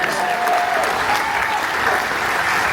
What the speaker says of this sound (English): Can we get another round of applause for Tim for doing this?